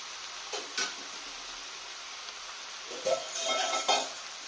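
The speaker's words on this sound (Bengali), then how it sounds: "দিয়ে একটু ভালো করে আমি নেড়ে দিলাম" Salted red amaranth greens stirred in a pan: a soft sizzle beneath a few scraping, clinking spatula strokes, clustered near the start and again toward the end, close and moderately loud.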